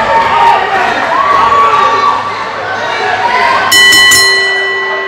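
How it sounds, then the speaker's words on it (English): A wrestling ring bell clangs several quick times near the end at an NWA event, ringing out over a loud cheering, shouting crowd that fills the arena throughout. "We're getting ready to ring the bell here, Danny Deals."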